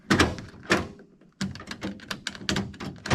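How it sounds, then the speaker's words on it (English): Sharp mechanical clunks and thunks from a 1970 Pontiac GTO car door lock being worked, several distinct close-up clicks and knocks in quick, uneven succession. "door lock works now"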